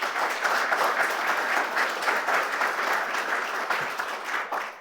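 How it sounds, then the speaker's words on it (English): A live audience at a foundation presentation event applauds the sponsors in a sustained, dense round of clapping that stays loud and steady throughout, with no one speaking. "Let's give them a huge round of applause."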